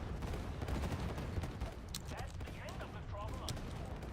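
Bombs thrown and exploding in a video game, a rapid crackling barrage of blasts and bangs at moderate volume, with game effects and voices mixed underneath.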